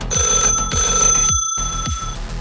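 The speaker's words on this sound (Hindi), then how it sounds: "तभी फ़ोन की घंटी बजती है।" An old-style telephone bell rings in repeated electric trills with steady high tones, close and loud, breaking off briefly before ringing again, with no voices.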